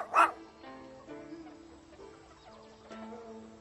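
A dog barks once sharply in an animated Mulan story set in ancient China, followed by quieter whimpering and yipping tones.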